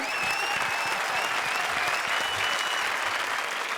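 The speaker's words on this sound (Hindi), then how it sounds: "जोरदार तालियां चारू शर्मा के लिए" A studio audience at the Comedy Circus show applauds steadily and loudly for the whole stretch, a thick, even roar of clapping with a faint tonal line running over it.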